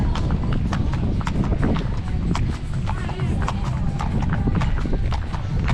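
Horses' hooves clip-clopping at an outdoor family-day event, a dense run of sharp hoof strikes close by, with people talking underneath.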